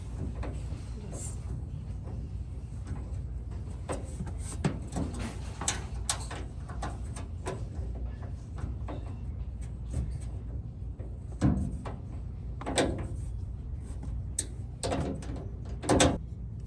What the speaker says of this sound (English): we were just playing with this drawer